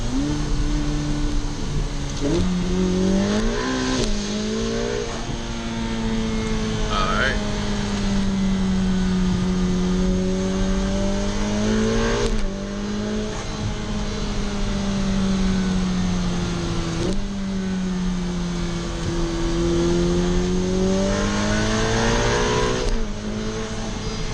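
A 2023 Ferrari F8 Spider drives and accelerates, its engine droning loud and steady throughout, pitch climbing and dropping through gear changes, close and unbroken, with no talking.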